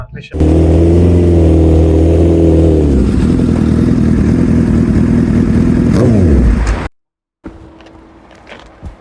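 A Smart car engine on a test drive, a loud, steady close drone that holds for several seconds, then winds down and cuts off, followed by quieter ambient noise.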